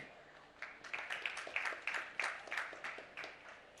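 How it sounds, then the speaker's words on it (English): A sparse, spotty round of audience applause at a panel event on climate activism: scattered claps from a small crowd, faint and somewhat distant, lasting a few seconds. "with that spotty show of applause"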